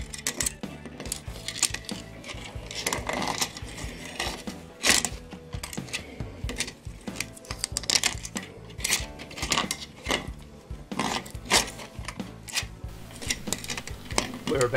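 A clock chime spring is forced into its barrel by hand during German clock repair, giving a nearby, irregular run of metallic clinks, ticks and scraping rattles.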